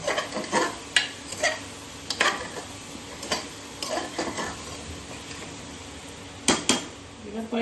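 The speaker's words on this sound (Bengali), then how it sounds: "দিয়ে ভালো করে মিল করে মিশিয়ে দেবো" A spoon stirs and scrapes through chicken stew in a metal pot, giving irregular clinks and knocks over a low background hiss.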